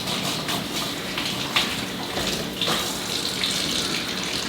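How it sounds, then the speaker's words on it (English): Smoked pastrami dumped into a bath of water, giving a steady close splashing and gushing wash of water with a couple of sharper sloshes. "We'll just dump it right in that bath of water."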